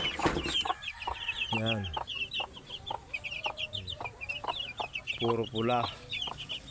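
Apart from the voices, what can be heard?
chicks and chickens clucking in a small poultry pen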